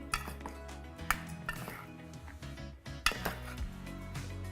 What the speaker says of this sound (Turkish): Kırmızı soğan koyuyorum. Domates. Önce bunu bir karıştırıyorum.